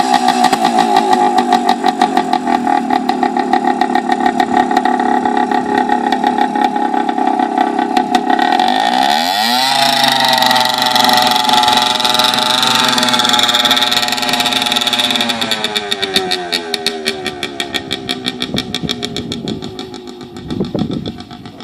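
A motorcycle engine idles steadily and close by on a rider's first outing, its tone rising briefly as if revved before settling back into a steady idle, with the engine sound running throughout.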